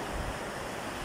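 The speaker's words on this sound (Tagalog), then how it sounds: "Ayan na, pumupunta na dito tubig." Water waves wash in as a brief, steady, broad rushing surge, fairly close and alone.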